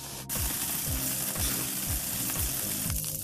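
Beef burger patties topped with cheese sizzle on a grill at 220–250 degrees, a loud, dense frying hiss that continues steadily throughout with small crackling pops.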